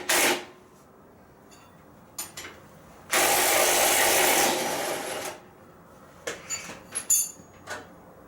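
Power tool loosening the lower shock mount bolts on a 2002 Ford Expedition with a 4BT engine, one sustained loud whirring burst of about two seconds, framed by scattered clicks and metallic clanks of handling nearby.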